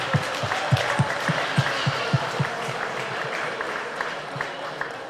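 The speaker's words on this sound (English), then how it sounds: "give me a big round of applause to welcome all our international guests" An indoor crowd at the Emerald Expo agricultural show at Virginia Show Centre applauds to welcome international guests, a steady wash of clapping with a few louder rhythmic claps standing out.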